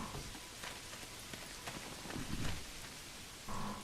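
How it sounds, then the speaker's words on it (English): Steady rain falling in the Manor Lords medieval village-building game, a dense even hiss of drops pattering on surfaces that swells a little toward the end, with no voices over it. "Oh yeah, it is raining."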